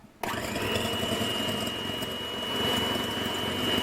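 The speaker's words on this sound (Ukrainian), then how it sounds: "Беремо наші два яйця і цукор потрішки кидаємо і збиваємо." Two eggs are beaten with sugar, added bit by bit, for a pumpkin cake. A motorized whir starts abruptly and runs steadily at close range, rising slightly in strength near the end.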